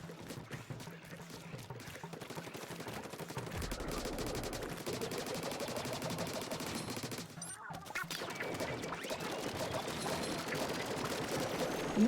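Rapid, continuous gunfire from the Splatoon 3 video game, dense and steady throughout with a constant mix of game effects underneath.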